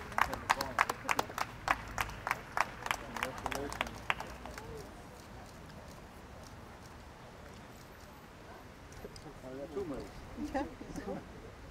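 Applause at a Land Art cup award ceremony in 2022 opens with a few seconds of rhythmic group clapping, then fades into a low murmur of crowd noise and voices.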